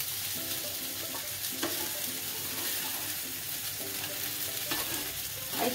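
Sabudana ingredients being mixed in a pan, a steady sizzle with repeated scraping stirs of a utensil recurring throughout, close and fairly even in level, with no talking.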